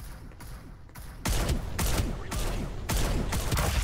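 Bursts of automatic gunfire in the battle royale shooter Farlight 84, loud and close, coming in several sustained volleys with short gaps between them.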